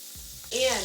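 Reserved butter hits a hot skillet for baking cornbread and breaks into a sudden bright sizzle halfway through, loud and close after a quiet start.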